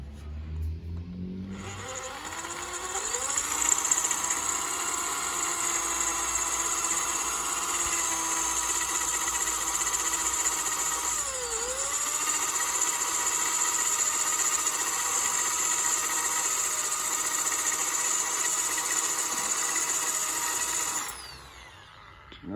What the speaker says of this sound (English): The drill bit's a little bit blunt.